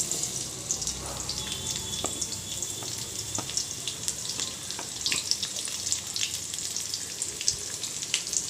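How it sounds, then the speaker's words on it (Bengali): Chopped onions frying in hot oil for mutton curry give a loud, dense, steady hiss and crackle with occasional faint stirring taps, close up and with no talking. "গরম হয়ে গিয়েছে, তেল দিয়েছি, এবারে পেঁয়াজ কুচিগুলো দেব"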